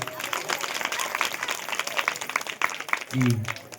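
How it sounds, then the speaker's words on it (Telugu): An audience claps hard at a Christmas skit, a dense patter of many hands over several seconds, with a voice talking over it near the end. "కింద నుండి చప్పట్లు కొడతలేరు, గట్టి కొట్టండి అమ్మా."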